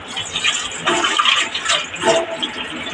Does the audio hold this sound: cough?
no